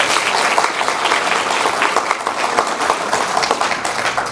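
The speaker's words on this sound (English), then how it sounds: "Let's give her a round of applause" A dinner audience at a school district employee retirement dinner applauds a retiree, with steady, dense clapping that holds for several seconds at close range and no voices standing out.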